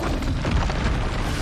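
A dense, booming blast from the Expulso explosion spell in the Hogwarts Legacy video game, during a fight with Ashwinders. It fills the clip as one loud, sustained rumbling burst with no voices over it.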